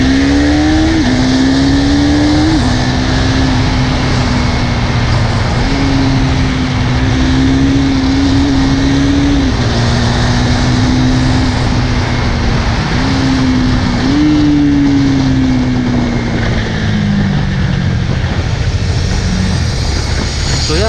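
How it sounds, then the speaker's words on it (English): A 2017 KTM Duke 390 motorcycle rides along an empty road, its single-cylinder engine revving up and easing off repeatedly with a loud, close exhaust note and no talk. "Let me just open the bike here as the road is a little empty and show you."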